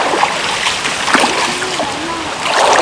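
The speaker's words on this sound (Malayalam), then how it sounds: "ഇതൊരു കുഞ്ഞു തോടാണ് കേട്ടോ" A small forest stream rushes and splashes nearby during heavy rain, a steady loud wash of water with faint voices briefly audible under it.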